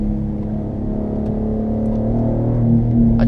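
A 2017 Porsche Cayenne engine hums in a steady, loud, close drone whose low tone climbs slightly near the end, with no talking over it.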